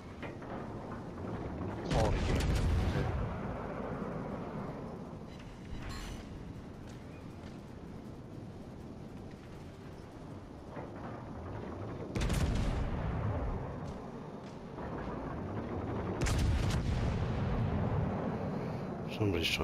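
Heavy naval gunfire in the World of Warships: Legends game, as a warship shells an aircraft carrier; several deep booming salvos land around 2, 12 and 16 seconds over a continuous rumbling battle bed, with a voice talking at times.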